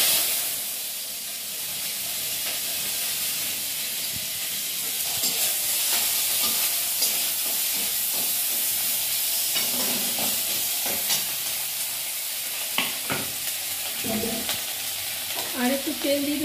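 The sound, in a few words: ginger frying in oil in a pan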